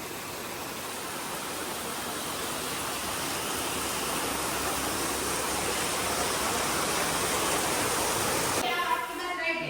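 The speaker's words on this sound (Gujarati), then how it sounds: "ફૂલ વરસાદ આવે છે ભાઈ" Heavy rain pours down outdoors in a continuous loud, dense hiss with no letup, cutting off abruptly near the end.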